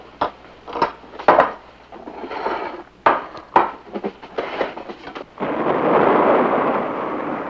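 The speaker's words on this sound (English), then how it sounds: "It was thunder" Distant thunder in a TV sitcom rumbles and cracks in several sharp bursts, then settles into a long, steady roar.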